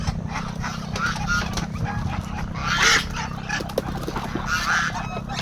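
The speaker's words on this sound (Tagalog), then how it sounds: "manok, pabo, gansa. Ayan, gansa, oh." Geese honk loudly in bursts amid a noisy crowd of farm fowl, including chickens and turkeys, with clucking and a constant low rumble of background chatter.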